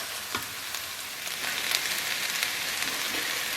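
Zucchini and tomatoes for ratatouille cook in a pan over medium-high heat, a steady close sizzle and crackle with occasional soft stirring taps, continuous and without talk.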